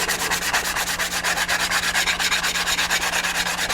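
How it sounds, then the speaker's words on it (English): Sandpaper rubbed back and forth on wood under the canopy of a model aircraft build, a steady rhythmic scratchy rasp of quick even strokes, close and loud. "You don't want to go sanding all the way through it."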